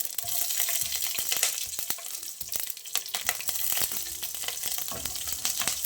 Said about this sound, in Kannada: ಎಣ್ಣೆ ಕಾದಿದೆ ಸಾಸಿವೆ ಹಾಕಿದ್ದು ಇದಕ್ಕೀಗ ಹಸಿಮೆಣಸು